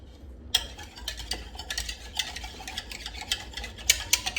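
A whisk beats two egg yolks in a bowl, making a fast, irregular run of light clicks and taps against the side, close and fairly quiet, starting after a short silence.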